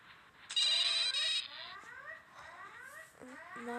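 A loud electronic phone ring bursts briefly in the video game Bear Haven, followed by chirpy game sound effects and rising synthetic tones.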